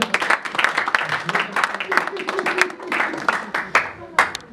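A church congregation at a healing service applauds and acclaims the Lord, sustained clapping with cheering voices mixed in, close and lively throughout.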